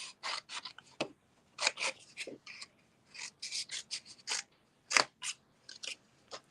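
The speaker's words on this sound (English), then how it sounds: "But I'm going to cut it out as a circle." Scissors cutting a circle out of a paper diecut panel make close, crisp snipping strokes in irregular bursts separated by short pauses, with no talk.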